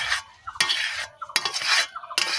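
A spoon stirring a mango mixture in a pan, close scraping strokes in a repeating rhythm with light metallic clinks and a faint sizzle, no voices.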